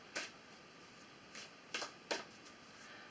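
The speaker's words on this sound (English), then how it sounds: "Shuffle again, put our intentions into it." Tarot cards are shuffled by hand, giving soft, quick riffling bursts in an irregular rhythm, faint and close in a quiet room.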